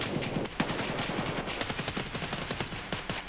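Rapid video game gunfire: bursts of automatic shots and single cracks crowd together in a dense, continuous fusillade, loud and close throughout.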